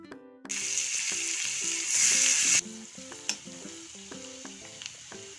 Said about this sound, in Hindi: अब हम इसमें महीन महीन कटा हुआ प्याज डाल देंगे।